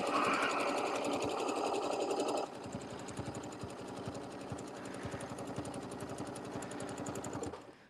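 Sewing machine stitches a canvas table topper in a fast, even mechanical patter at close range, with a brief loud stretch early on, then steady running before it slows and stops; no voices.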